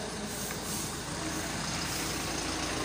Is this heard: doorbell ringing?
no